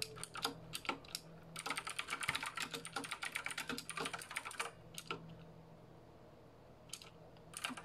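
Fingers typing on a computer keyboard to enter a title into a spreadsheet cell, with close, quick clusters of key clicks, then pauses and a few scattered taps.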